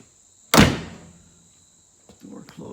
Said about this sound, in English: Door closes nice and tight.